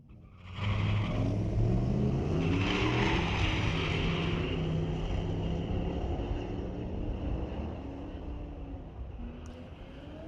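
A 2006 Ford Mustang and a quick Chevrolet Silverado launch side by side at a street-legal drag strip, their engines bursting into a loud, sustained roar that holds and slowly fades as they pull away.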